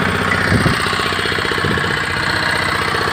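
The rope-started engine of a four-wheel reaper binder, a cheap wheat-cutting machine, runs close by with a loud, rapid, even knocking chug like a small single-cylinder motor, steady from start to finish.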